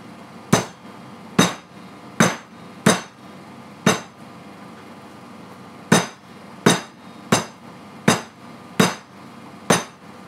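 Chicken pounded flat with a meat mallet in a home kitchen: about a dozen sharp, loud, close thuds in an uneven steady rhythm, each decaying quickly, with no talking.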